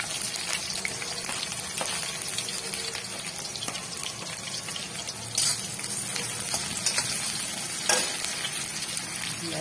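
Sliced onions and cumin seeds sizzle in hot oil, a moderately quiet, steady frying hiss with occasional louder pops and clinks, and no talking.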